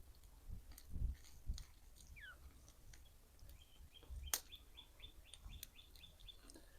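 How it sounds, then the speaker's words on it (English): Small birds chirp in quick repeated notes in the background beside a flame grill, with a series of short rhythmic tweets later, alongside soft nearby knocks and rustling. "Got the birds singing to us."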